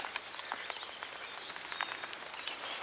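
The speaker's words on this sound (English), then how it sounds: "Yeah, you can hear the rain now." Rain falling on a lakeside where anglers fish, a soft continuous patter with scattered nearby drops tapping on surfaces, faint and steady with no talking.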